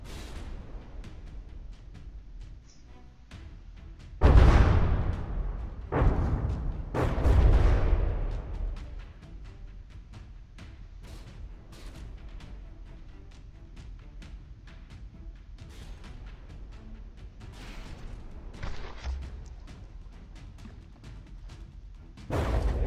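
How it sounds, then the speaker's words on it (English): Heavy naval gunfire in From the Depths, a tournament ship battle, opens with a loud boom, then several more booming salvos and scattered distant thuds and pops rumble across the fight. "Other guns that are currently pounding your ship into pieces."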